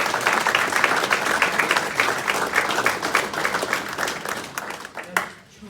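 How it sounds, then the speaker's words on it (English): A crowd of audience members applauds retiring school district staff at a recognition ceremony, with loud, sustained dense clapping that fades out near the end. "Can we give a round of applause for that?"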